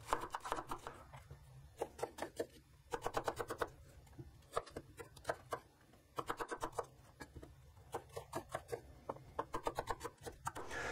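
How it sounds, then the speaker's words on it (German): A knife dices three onions on a cutting board, with quick rhythmic chopping taps coming in bursts and short pauses between them, close and fairly quiet. "So, da haben wir die drei Zwiebeln geschnitten."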